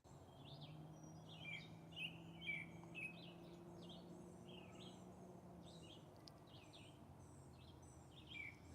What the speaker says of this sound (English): I just love listening to the birds.